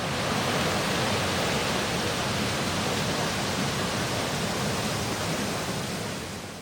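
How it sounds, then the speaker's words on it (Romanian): Waterfall recorded up close by the built-in microphone of an Insta360 Luna Ultra camera: dense, steady rushing white-noise roar filling the whole range, constant and unbroken, with no voices. "sunetul din cameră, lângă cascadă,"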